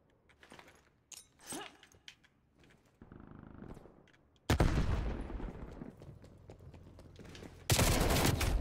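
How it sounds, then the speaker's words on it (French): Gunfire in a first-person shooter video game, with scattered shots early on followed by two loud, sustained bursts of rapid fire near the end. "C'est qui qui me tire dessus"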